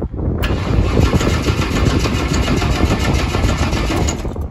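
Engine of a 1963 Ford Falcon cranking on starting fluid, a loud, rapid, continuous churning and rattling close by that runs the whole time without catching, with no talking.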